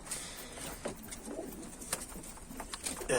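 Homing pigeons coo softly in their coop. Several faint, low calls and small rustles come and go against a quiet background.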